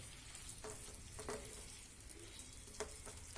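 Fried okra being stirred into a tomato and onion gravy with masala in a pan for bhindi do pyaza. A soft, steady sizzle runs throughout, with a few faint spoon scrapes, quiet and close.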